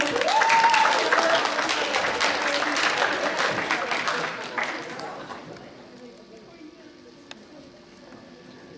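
An audience at a Halloween show claps steadily in warm, dense applause that gradually fades after about five seconds, while a host's voice speaks over it.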